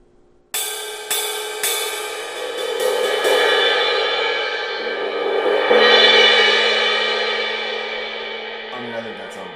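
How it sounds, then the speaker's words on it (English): 18-inch thin crash cymbal struck several times in quick succession, building to a bright, washy sustained shimmer that swells and slowly decays, loud and close. "An 18-inch thin crash that sounds like this."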